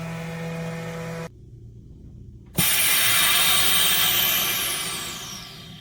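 A Promarks table-top vacuum sealer draws air out of a clothes bag: a steady machine hum, a sudden near-silent gap, then a sharp click and a loud, broad hissing rush of air that slowly fades, with no talking.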